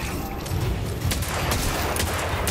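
In Destiny 2, a destroyed enemy lamp sets off a burst of explosive cracks in quick succession, loud and close over a dense roaring game background.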